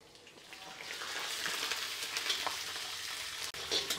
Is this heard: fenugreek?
yes